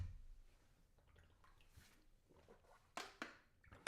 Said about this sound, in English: That makes a satisfying drinking sound.